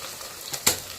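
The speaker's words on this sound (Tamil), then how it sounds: "எண்ணெய் நல்லா காஞ்சினாலும் வெங்காயம் போட்ட உடனே வதங்கிடுச்சு" Onions fry in hot oil, giving a soft, faint sizzling hiss with one brief clatter partway through this short moment. There is no talk.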